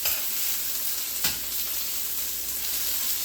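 Chicken cutlets for Chicken Francese fry in a pan with a steady, close sizzling hiss, broken by one brief louder crackle as something shifts in the hot oil.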